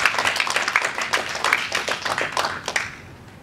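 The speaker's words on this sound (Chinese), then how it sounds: "也让我们再次为我们的五位劳苦功高的评论员报以热烈掌声。" Audience applause at a Chinese-language speech club meeting, a steady burst of many hands clapping at close range for about three seconds before thinning out at the end.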